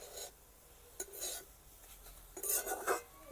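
A spoon scrapes and clinks against a pan while stirring a coconut and jaggery mixture, giving a few short, soft bursts of scraping with quiet pauses between.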